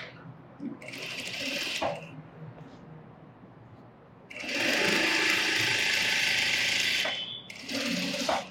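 A sewing machine stitches cotton material and lining along a drawn mark in three bursts, a short run, a longer steady run and a brief final one, with a loud whirring clatter; quieter pauses sit in between.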